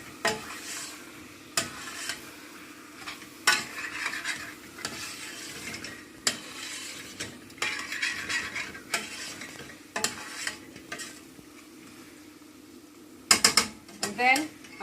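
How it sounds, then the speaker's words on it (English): Potato and pilchard curry with turmeric being stirred in a pot, the spoon making repeated scraping knocks against the metal at irregular intervals over a low cooking hiss, with a clatter of clanks near the end. "Give that a stir."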